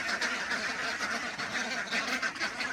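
A flock of pet ducks quacks noisily and continuously, overlapping calls close by and filling the whole stretch without a break.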